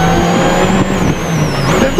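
Peugeot rally car on a 2006 Monte Carlo WRC stage, engine screaming loud and close at high revs with a rising and falling pitch as it shifts.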